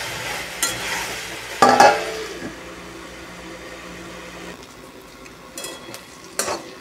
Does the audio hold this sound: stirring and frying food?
yes